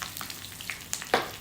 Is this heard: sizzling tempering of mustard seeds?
yes